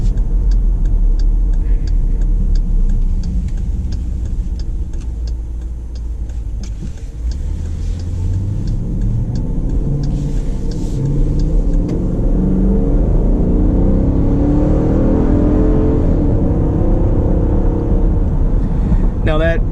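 A 2019 Dodge Durango R/T AWD V8 engine rises under moderate, about one-third throttle acceleration, a deep steady rumble climbing in pitch as speed builds, heard from inside the cabin with someone talking over it.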